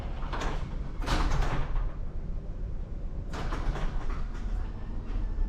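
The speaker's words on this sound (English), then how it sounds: "Garage door is closing." A residential garage door rumbling as it closes, with a rolling mechanical grind and a couple of louder clattering bursts nearby, no talking.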